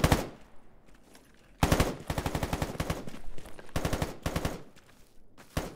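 Automatic gunfire from the video game STALKER comes in several sharp, rapid bursts separated by short pauses, loud and close with a crackling rattle.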